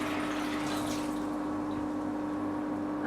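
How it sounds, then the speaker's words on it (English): Fermented water kefir poured through a sieve, a steady continuous liquid trickle and splash held close and even throughout, with a faint background hum and no talking. "So I'll just pour them through the sieve"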